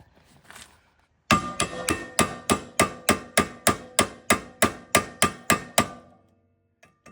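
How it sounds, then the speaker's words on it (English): Manual impact driver hit with a hammer to loosen Phillips screws on the rear brake rotor of a 2006 Acura TSX: about fourteen sharp metallic blows in a steady, even rhythm, close and loud, with no talking. "I'm going to use a manual impact with a hammer"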